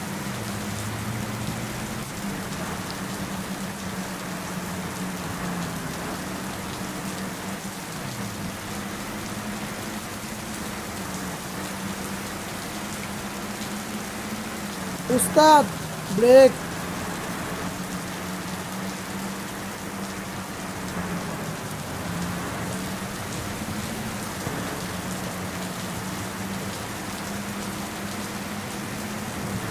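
Steady rain falls on a road during a Rajshahi to Dhaka trip, a constant hiss with low traffic rumble beneath. A brief shout breaks through once midway.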